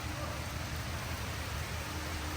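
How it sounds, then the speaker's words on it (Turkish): Rain falling outdoors makes a steady, dense hiss that fills the whole stretch at a constant moderate level, without distinct drops or any other sound standing out. "Ben yağmuru çok seviyorum. Çok güzel yağıyor."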